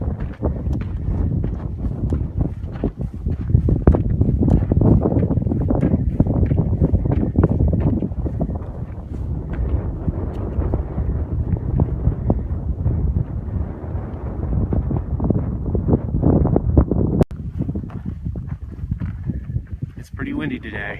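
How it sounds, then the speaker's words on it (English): Strong gusty wind buffets the microphone on a high Colorado mountain ridge, a loud continuous roar that surges and eases, with a person talking under it in places. "Pretty windy today."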